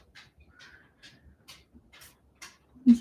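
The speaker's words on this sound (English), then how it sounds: "here's my dog's pitter patters." A dog's paws patter across an indoor floor, a series of light, evenly spaced clicks close by, ending with a louder thump, with no talking.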